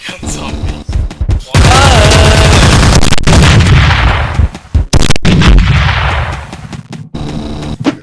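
Machine gun fire in the Teleglitch video game, loud sustained bursts of rapid shots broken by brief pauses and booms, with a voice shouting over the gunfire.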